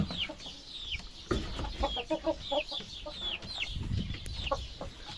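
An Arab rooster clucks among other chickens in a farm coop, with repeated short clucks and calls over a steady background of rustling and movement.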